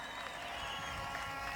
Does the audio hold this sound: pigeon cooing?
no